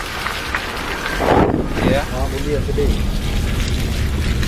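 Rain falling outdoors on the way to the Malini temple at Likabali, Arunachal Pradesh, a steady close hiss running throughout, with brief murmuring voice-like sounds in the middle.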